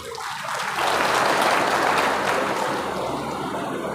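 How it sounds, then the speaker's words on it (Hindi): A crowd at a student award ceremony in Bulandshahr breaks into applause, a dense wash of clapping that swells quickly and holds for a few seconds. "गुरुजी के लिए भी जोरदार ताली बजा दो एक बार।"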